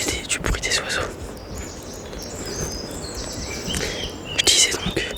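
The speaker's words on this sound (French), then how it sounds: "profitez du bruit des oiseaux" Birds chirp and sing in an outdoor natural setting along a cycle path, with high bright calls drifting over a soft background hiss and a quiet whispering voice.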